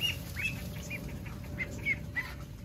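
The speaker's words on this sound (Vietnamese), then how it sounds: "Mấy con gà rừng đợt này nó cũng theo ra này nhiều lắm." Jungle fowl flap their wings in short bursts against a steady outdoor farm hum, with a few high chirps scattered through.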